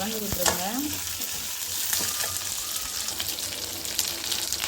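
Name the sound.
onions frying with cumin and chana dal in oil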